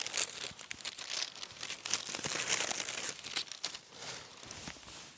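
A plastic bag is handled close by, crinkling and rustling continuously with sharp crackles throughout, loud and alone.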